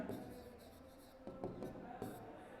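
Pen strokes on paper while a math solution is worked out, heard as faint, quick scratching bursts in a quiet room with a low background hum.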